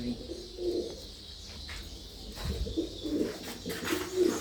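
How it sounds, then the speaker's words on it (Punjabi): Pigeons coo nearby, a Lal Chini hen and a black pigeon, giving soft repeated low throaty coos with faint chirps in between, while someone speaks over them. "ਲਾਲਚੀਨੀ ਕਬੂਤਰੀ ਤੇ ਕਾਲੀਆਂ ਦਾ ਕਬੂਤਰ ਆ"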